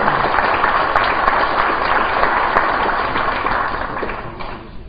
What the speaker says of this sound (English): And also a round of applause for our President, Dr. Robert Underwood